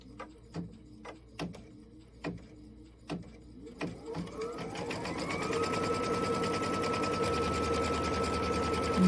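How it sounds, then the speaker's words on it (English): Embroidery machine sewing a tack-down stitch: a series of sharp evenly spaced clicks and thumps, then a steady whirring hum of continuous stitching that builds and holds, close and fairly quiet. "I'm going to stitch down the first one because that's the first one I laid down"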